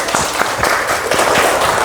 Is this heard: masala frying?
no